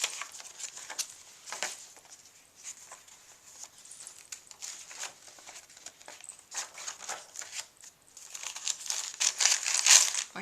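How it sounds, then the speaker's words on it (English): Sheets of tracing paper crinkle and rustle close up in irregular bursts of dry crackling, with short pauses between handlings and louder crumpling near the end; no one speaks. "More tracing paper."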